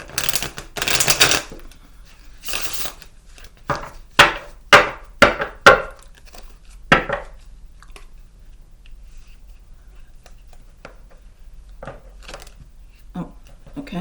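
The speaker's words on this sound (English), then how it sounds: "And let me shuffle this deck a little bit." An oracle card deck being shuffled by hand: two bursts of papery riffling, then a quick run of sharp card taps and snaps, fairly close, with faint talk in the background.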